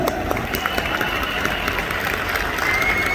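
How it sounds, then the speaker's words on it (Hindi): A crowd keeps clapping steadily, with scattered sharp claps standing out and background voices blending into the roar. "तालियां और जोरदार,"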